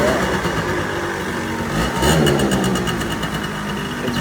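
A Yamaha Zuma scooter fitted with an Airsal 65cc big bore kit runs steadily, its small two-stroke engine buzzing close by and running rich. The pitch rises briefly around the midpoint as the throttle blips, then settles again.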